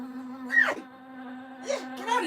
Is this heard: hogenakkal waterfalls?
no